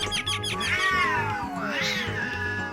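A cat gives a loud, drawn-out meow with a rising then sliding pitch, followed by a second wailing meow, used as a comedic effect that stands close and alone without any talking.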